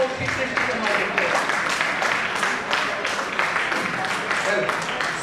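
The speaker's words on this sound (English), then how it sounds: "A huge round of applause for Shri Krishna Kumar Gupta" Audience applause at a college annual day celebration, a dense, steady wash of clapping from a crowd that holds at a fairly loud level throughout without any voice on top.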